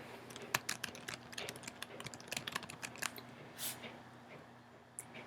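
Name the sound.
typing a keyword on a computer keyboard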